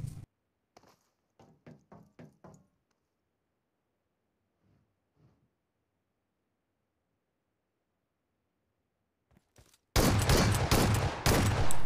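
Gunfire in PUBG Mobile during a one-versus-four shotgun fight: a quick run of sharp shots early on, then near silence, before a dense, loud burst of battle noise fills the final two seconds.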